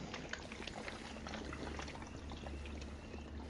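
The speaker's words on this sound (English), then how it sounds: "that was me pouring it in another bottle" Liquid poured from one bottle into another, a steady close splashing trickle that runs for several seconds with no talking.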